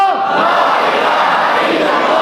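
A large crowd at a religious gathering chants a slogan in unison, a loud, sustained roar of many voices filling the whole moment.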